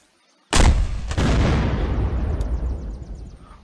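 Cannon firing a cannonball in Unturned with the Iron & Blackpowder mod: one loud, sudden blast followed by a second crack, then a long rumbling decay that fades over several seconds.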